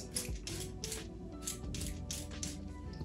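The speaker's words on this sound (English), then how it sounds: "I'm gonna start by just spraying on" Glycerin and water mix sprayed from a spray bottle onto matted, dry natural hair with no product in it, heard as about six short hissing bursts in an even rhythm, close and fairly quiet.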